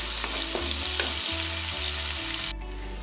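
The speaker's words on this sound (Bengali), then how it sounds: "এবার এই পেঁয়াজটা এর মধ্যে দিয়ে দিলাম, দিয়ে ভালো করে লাল করে ভেজে নেব" Onions frying in hot oil over a medium gas flame while browning for a cauliflower rezala. A loud, steady close sizzle runs throughout, with faint utensil knocks, and it thins out near the end.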